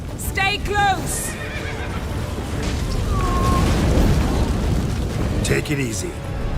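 Horses whinny in The Witcher 3 amid a collapsing scene, a couple of sharp neighs near the start and another near the end, over a loud rumbling backdrop with voices talking.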